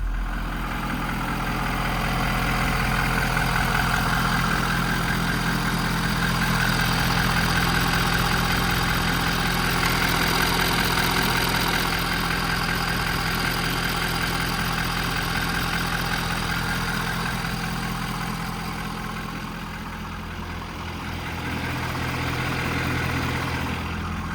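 Idling 2019 Ford F-550 4WD service truck with a Stellar service body and crane, a steady mid-low engine drone heard close by for a long stretch, holding even with a slight dip near the end.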